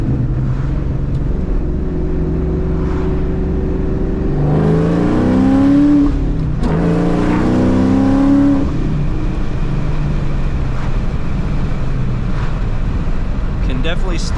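A loud Mustang Cobra engine revving hard during power-shift practice, rising in pitch, dropping briefly at a gear change and then climbing again before settling to an idle rumble, with some talk over it.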